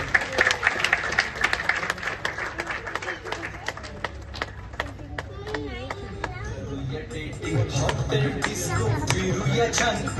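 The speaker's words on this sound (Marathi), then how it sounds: "टाळ्या वाजवा यांच्यासाठी पण" A crowd at a film poster and song launch event claps steadily throughout, sharp hand claps forming a continuous wash of applause with some voices mixed in, fairly close.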